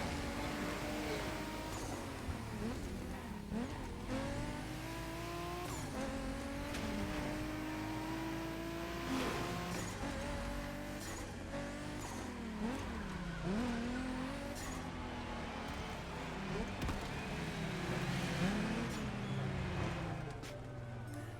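A race truck tears through a Hawaiian scenic route in The Crew Motorfest, its engine droning and shifting pitch as it accelerates, with tire squeals and a steady roar running loud throughout.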